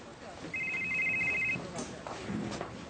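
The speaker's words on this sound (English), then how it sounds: "Answer your phone." A telephone rings once in a single electronic trill lasting about a second, over quiet room tone, with people talking in the scene.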